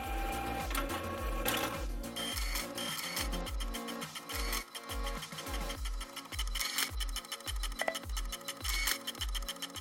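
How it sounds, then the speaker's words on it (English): An inkjet-style home printer runs off a multi-page paper mask pattern, its print head shuttling back and forth in a steady, rapid mechanical rhythm of clicks and whirring strokes, close and continuous throughout. "Print your file."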